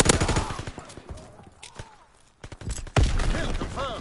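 Video game gunfire: loud bursts of shots opening and closing the passage, with a quieter gap in the middle where faint warbling effects sound.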